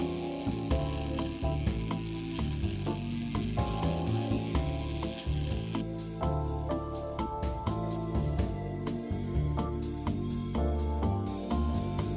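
Sandpaper scratches over small clay pieces in a steady run of rasping strokes, close and continuous with no talk.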